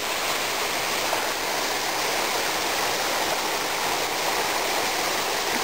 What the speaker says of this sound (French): De toute façon l'eau elle descend de partout, donc le sentier c'est en même temps la rivière.